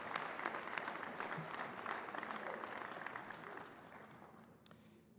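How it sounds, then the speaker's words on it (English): An audience at a college celebration honoring a national championship men's team gives a round of applause, a steady, fairly distant crowd clapping that carries on evenly throughout. "So a round of applause for Chris."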